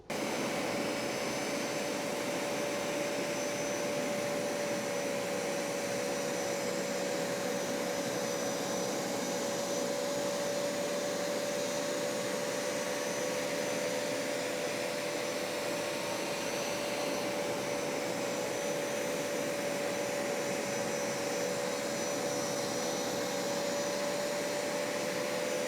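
A carpet cleaner, either a Bissell Revolution HydroSteam or a Hoover Power Scrub, works on a big carpet stain, its motor whining in a loud, steady drone with a sustained tonal hum throughout.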